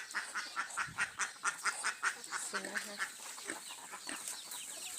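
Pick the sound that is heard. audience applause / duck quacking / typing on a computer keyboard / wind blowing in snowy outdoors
duck quacking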